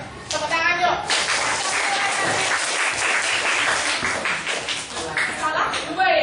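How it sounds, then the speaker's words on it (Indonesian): A classroom of students claps hands together in a dense burst of applause lasting about four seconds, with a teacher's voice briefly before and after. "Pintar semua, yuk. Tepuk tangan yuk."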